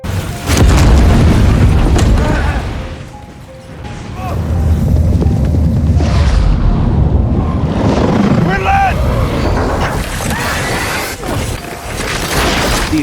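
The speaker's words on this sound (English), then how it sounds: "The explosion's power swept through the entire city." A nuclear bomb blast booms with a deep, loud rumble that fades, swells again and rolls on, with someone narrating over it.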